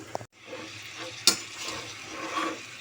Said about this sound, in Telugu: ఈ క్యారెట్ అంతా కూడా ఇందులో వేసుకొని బాగా వేయించాలి